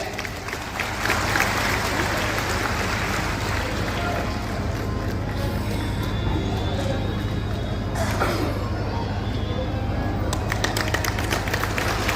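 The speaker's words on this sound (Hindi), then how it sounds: "एक जोरदार तालियां बजाएं।" Outdoor applause from an audience at a Sahasra Chandi Mahayagya religious gathering, a continuous dense patter of clapping over a steady low hum, holding evenly for a long stretch.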